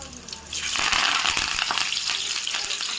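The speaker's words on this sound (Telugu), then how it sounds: "అదిగండి తాలింపు వేసుకుంటాం తను." Tempering (talimpu) hitting hot oil for a drumstick-leaf curry, a dense hissing sizzle that swells up after a brief quieter start and holds steady, close and loud.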